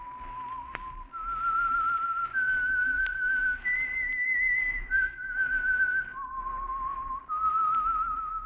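A clear, melodic whistled tune, sustained notes stepping up and down in pitch, played alone and close over a faint low background hum.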